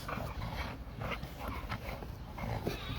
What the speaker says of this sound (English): This dog never stops.